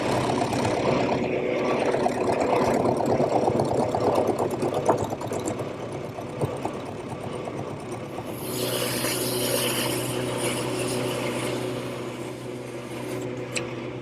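A wood lathe turns a heavy high chair part slowly at about 500 RPM, giving a steady, close mechanical rumble with a rhythmic whir. Partway through, the tone shifts to a brighter, hissing cut that continues to the end.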